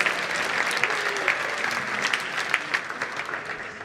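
A school assembly audience applauds fundraising participants, loud continuous clapping with sharp individual claps standing out through the crowd's steady patter.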